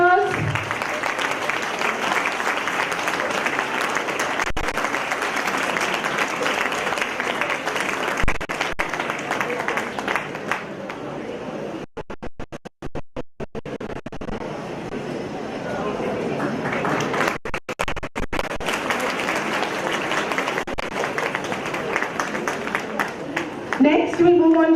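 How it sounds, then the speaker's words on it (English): Sustained audience applause at a school Independence Day ceremony, steady and crowd-wide, continuing for a long stretch with brief dips. "Please give a big round of applause."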